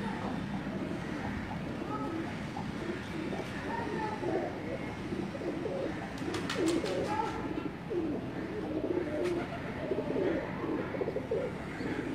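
Soft, low cooing from a large high-flying pigeon repeats against a steady background murmur, with a few faint chirps and rustles mixed in.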